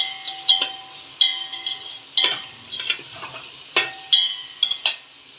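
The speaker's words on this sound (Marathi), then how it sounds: "हे आता सगळं एकत्र परतून घ्यायचं, चांगलं शिजवून घ्यायचं" Spoon stirring and sautéing ginger-garlic masala in a pan, with repeated sharp scraping clinks of metal against the pan at an irregular rhythm over a faint sizzle, close and alone without talk.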